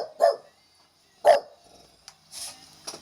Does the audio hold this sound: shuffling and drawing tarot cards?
no